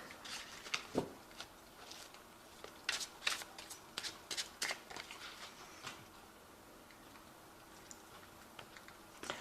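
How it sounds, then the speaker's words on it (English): Tarot cards being shuffled in quick, crisp riffles and taps, close and soft, coming in short bursts with brief pauses between them. "I have shuffled this deck"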